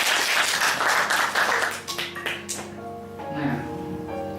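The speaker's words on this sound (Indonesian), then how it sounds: "Oke, tepuk tangan untuk Anda semua." Applause from an audience at an Indonesian confidence-building seminar, a dense burst of clapping for about two seconds that fades into scattered claps with a voice and music-like tones underneath.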